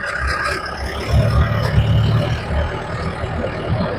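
Low rumbling used Willys jeep engine idling and revving slightly, close by, a steady throaty drone with small surges.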